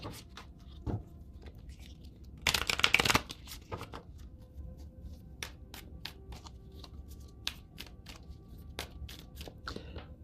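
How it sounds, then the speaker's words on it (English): Oracle cards being shuffled and drawn by hand, a quick riffling burst followed by scattered soft card slaps, flicks and taps, close and quiet. "I'm going to get an Island Time Wellness card for you"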